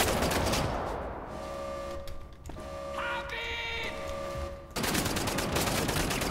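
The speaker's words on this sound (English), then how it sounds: "Though I don't like this space laser very much." Sci-fi laser rifle fire in Wolfenstein: The New Order, dense bursts of gunfire at the start and end framing a humming, tonal weapon charge with rising whine in the middle; loud and continuous with no talk.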